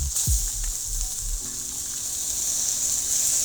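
Chicken cutlets searing in a non-stick pan for chicken marsala give a steady, close bright sizzle, with a few low thumps near the start and no talking.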